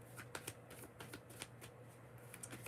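Tarot cards being shuffled by hand, a steady run of soft riffling flicks and papery taps close by, with no voices.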